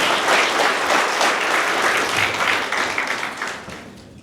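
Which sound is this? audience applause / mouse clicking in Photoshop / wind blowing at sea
audience applause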